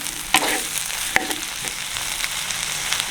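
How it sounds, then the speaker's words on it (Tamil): Steady sizzling of food slowly sautéing in a pan for fenugreek curry (venthaya kuzhambu), with a few sharp clicks and scrapes of utensils over the continuous hiss. "ஆறுதலாக வதங்கி கொண்டிருக்கு"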